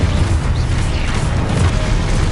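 Exposo explosion spell going off in Hogwarts Legacy, a loud, sustained rumbling boom with dense crackling debris across the whole moment.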